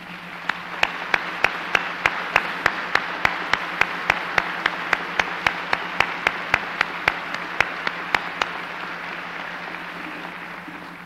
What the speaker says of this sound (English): Would the entire class please stand for a round of applause?